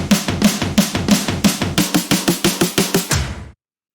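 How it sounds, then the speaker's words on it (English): Layered electronic snare hits sound in a steady rapid series of about fifteen sharp, bright strikes, loud and dry with no voices, then stop abruptly. "So when you just hear the snares"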